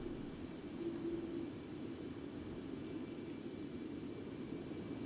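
Simulated Concorde jet engines in X-Plane 12 during descent as throttle is raised slightly, a steady, even low roar that continues unbroken throughout, with no talk.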